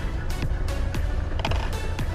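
A Mercedes W123 diesel engine cranks and catches after the glow plugs are preheated, then runs with a rough, loud, rhythmic clatter close by, with a low rumble underneath.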